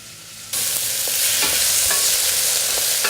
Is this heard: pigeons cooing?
no